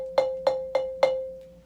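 A marimba bar struck with a mallet sounds four evenly spaced notes at the same pitch, each with a crisp attack and a short ringing decay, played alone up close.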